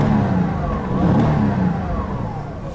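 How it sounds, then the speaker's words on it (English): A Porsche Boxster engine revving steadily nearby, a continuous loud mid-pitched engine drone with slight swells and no talking. "The car revs nicely."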